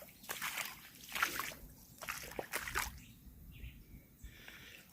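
Bare muddy feet splash and slosh in shallow flowing water outdoors in grass after Hurricane Beryl in Jamaica, with irregular close splashes and a bird calling faintly.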